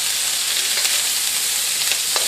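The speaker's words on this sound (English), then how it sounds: "now we're sizzling." Freshly chopped bacon frying in a one-pot pan, a dense steady sizzle heard up close with a few sharp pops and scrapes of stirring, no one speaking.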